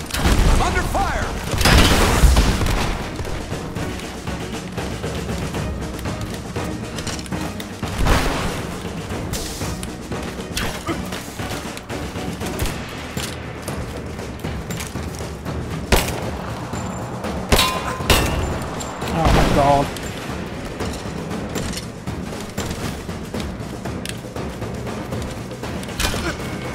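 Rise of the Tomb Raider combat during the Trinity invasion, with scattered gunshots, heavy thumps and explosions over a continuous din of battle, while voices shout in the game.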